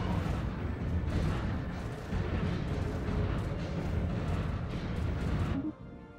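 Heavy space fleet weapons fire from Stellaris, a sci-fi strategy game, keeps up a continuous rumble of overlapping blasts and booms. It stays loud throughout and fades out in the final half second.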